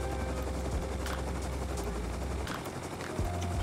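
A helicopter in the survival game Rust thrums steadily with a low rotor drone throughout, loud and close, with sharp bursts that may be gunfire over the top.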